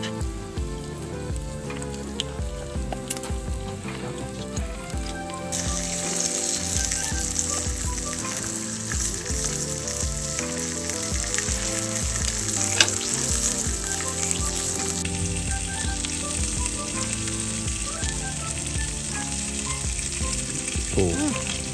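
Meat sizzling on a grill over a campfire at an autumn campsite, a steady loud crackling fry that runs continuously without pause.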